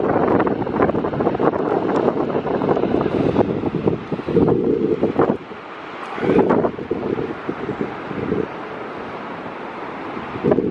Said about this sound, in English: I know it's probably hard to hear me because of the wind.